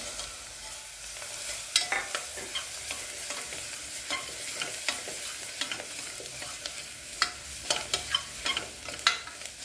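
Chopped onion sautés in a pan for sev usal made with green peas, giving a steady close sizzle broken by sharp spatula scrapes and stirring clicks throughout, with no talking.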